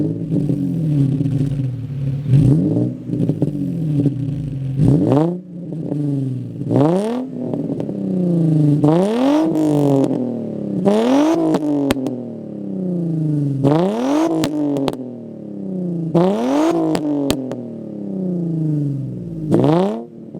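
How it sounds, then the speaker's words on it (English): A Nissan Z car with a muffler delete, compared against its stock exhaust, revs repeatedly in short bursts, each rising sharply and falling back to idle, loud and close with no talking. "I'm gonna go ahead and compare some revs from the Muffler Delete and the stock exhaust."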